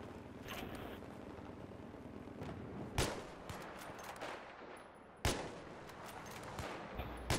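Gunfire in the video game Battlefield 3, with rapid bursts and a couple of sharp, loud single shots standing out over a continuous noisy battlefield background, no talking.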